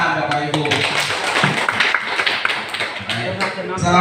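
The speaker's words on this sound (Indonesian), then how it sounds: "Tepuk tangan Bapak Ibu." An audience at an education gathering in Bengkulu claps, a busy rattle of many hands heard under and around a voice speaking over a loudspeaker.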